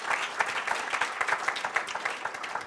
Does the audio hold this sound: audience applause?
yes